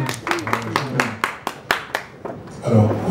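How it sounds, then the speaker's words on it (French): A crowd at a press conference applauds a music manager, with a steady run of fairly loud, close claps that thin out toward the end, where a voice begins speaking. "Applaudissez pour lui parce que tout ce qu'il a."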